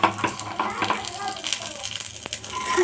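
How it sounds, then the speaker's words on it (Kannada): Paddu batter frying in hot oil in a pan, a soft continuous sizzle with scattered clinks and taps of a utensil against the pan, heard alongside faint background voices. "ನಾವು ಇಲ್ಲಿ ಪಡ್ಡು ಹಾಕಾಕತ್ತೇವೆ ಅವಸರ ಮಾಡಿ."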